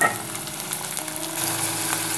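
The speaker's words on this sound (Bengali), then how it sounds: "তাড়াতাড়ি পেঁয়াজটা ভাজা হয়ে যাবে" A cup of onions with a pinch of salt fries in a hot pan, giving a steady, close crackling sizzle with occasional pops and light stirring, no voices.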